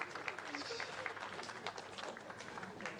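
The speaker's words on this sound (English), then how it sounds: "Okay, big round of applause." A crowd at a traditional bullfighting arena applauds, a faint, continuous patter of clapping running beneath people talking.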